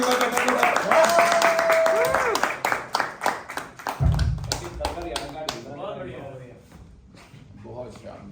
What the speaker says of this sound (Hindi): मारो ताली